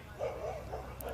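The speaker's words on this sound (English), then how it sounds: "3-0 the count with a chorus of barks in the background." Several dogs yip and bark at a high-school baseball field during an Eastmont vs Wenatchee game, a loose chorus of short, fairly distant barks heard alone.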